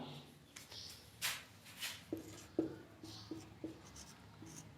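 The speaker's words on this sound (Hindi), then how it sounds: "क्वेश्चन हम लिखेंगे" Pen or chalk writing out a question, heard close as a string of short scratching strokes and taps with small pauses, quiet and without talk.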